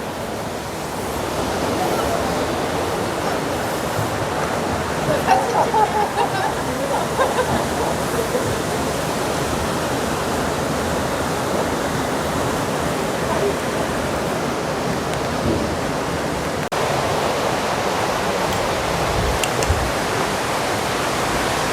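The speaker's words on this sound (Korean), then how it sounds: "용추 폭포가 나오네요" Yongchu Falls, a three-tiered waterfall in the rocky gorge of Juwangsan, pours with a dense, steady roar that fills the whole clip without letup, loud and close.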